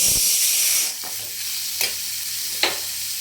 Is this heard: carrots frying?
yes